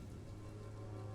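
Steady rain falling in the video game Vampyr, a soft continuous hiss with low rumbling ambience underneath, even and unbroken throughout with no voices.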